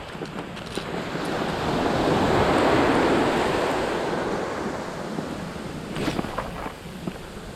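Ocean surf rolls and breaks on a beach in one long swelling wash that peaks and slowly recedes, close and steady, with wind buffeting the microphone and no talking.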